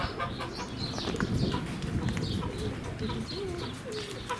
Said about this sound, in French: Les dindons qui gueulent là